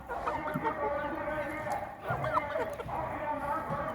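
A Japanese rooster in a flock of Indian game (Hint) chickens clucks and calls in a steady chorus of fowl, with a person talking nearby throughout.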